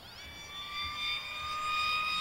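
A radio-controlled Funjet model jet plane flies past with its engine giving a high, whining tone that sweeps up and down in pitch and grows louder, alone without talk.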